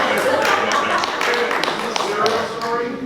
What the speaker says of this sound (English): Everybody applaud that.